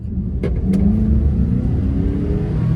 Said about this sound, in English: Let's just accelerate normally first, see how it sounds.